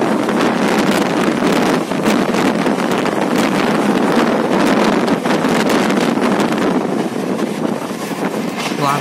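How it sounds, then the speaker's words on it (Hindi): Strong wind buffets the microphone outdoors near Ranchi, a loud, constant roaring rush with gusty fluctuations throughout, no voices heard. "तो अभी आप देख सकते हैं कि हवा कितनी तेज़ चल रही है"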